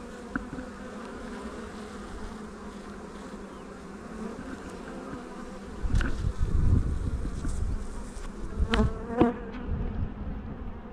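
A honey bee swarm taken from a bait hive buzzes steadily at close range, a dense droning hum with louder passes as individual bees fly near, and no talking.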